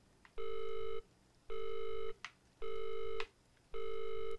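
A telephone in the horror game Visage sounds four evenly spaced electronic tones with short gaps between them, each held about half a second, over a quiet background. No voices.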